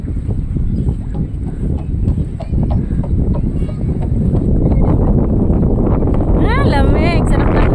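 Steady outdoor wind rushing across the microphone at Pocanil Beach, Bulalacao, Oriental Mindoro, a constant low rumble throughout with some faint background voices near the end.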